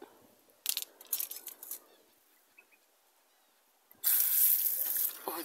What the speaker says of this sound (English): Oh, this water is absolutely freezing.